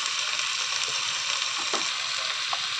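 Whole panch phoron spices sizzle in hot oil during tempering: a steady close hiss with a few faint crackles and pops, no voices.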